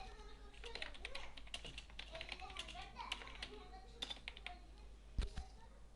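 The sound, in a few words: typing text on a computer keyboard in AutoCAD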